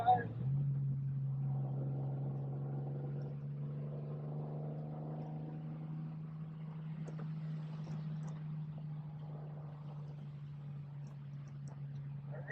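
A 1976 Triumph TR6 driving along after shifting out of overdrive, its engine holding a steady low drone throughout.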